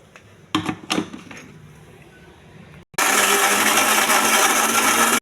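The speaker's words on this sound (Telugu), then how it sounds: "ఇది మిక్సీ వేయాలండి." A few jar and lid clatters come first, then a mixer grinder roars into a loud steady whir, blending a mint, tomato and peanut chutney until the end.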